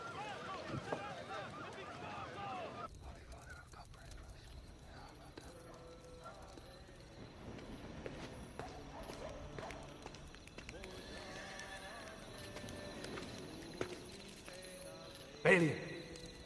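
Horse hooves clip-clop across a period film scene set around the Crusades, with occasional whinnies and movement, under stretches of dialogue and ambient sound.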